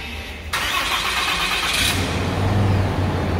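A RAM 2500 Laramie pickup truck engine cranks and catches loudly, then settles into a steady, rumbling idle close by.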